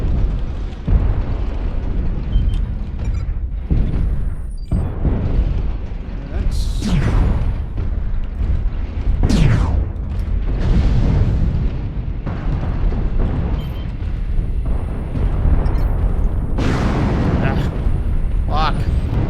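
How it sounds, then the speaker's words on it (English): A Hunchback mech in MechWarrior Online firing its weapons, with repeated heavy booms, bursts and whooshing projectile sweeps layered under a speaking voice. "That's him firing at me, I know that much."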